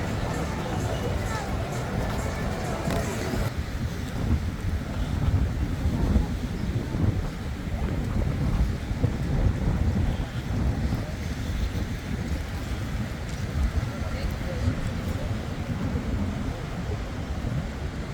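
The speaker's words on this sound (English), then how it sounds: "Quite windy today though. Really feel the wind." Strong wind buffets a seaside promenade in Tenerife on the way to Las Vistas Beach, a constant loud rumbling roar against the microphone with gusts rising and falling, and a person speaking briefly beneath it.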